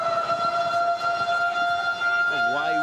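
A stadium siren blares a sustained steady tone at half time of a junior rugby league match between the Roosters and Warriors, sounding loud under a commentator's excited talk.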